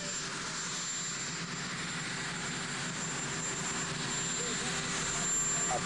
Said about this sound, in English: the presidential helicopter lands, and of course it makes a lot of noise.